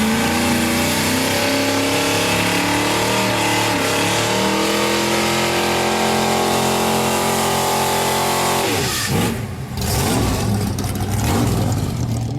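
A Brazilian Dodge Dart V8 engine roars loud and close, holding a steady rev before dropping briefly and surging again.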